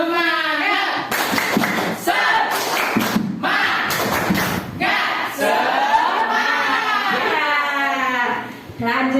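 An audience in an Indonesian teacher training session performs the rhythmic 'tepuk semangat' clap, with bursts of patterned clapping and shouts mixed among loud, lively voices throughout.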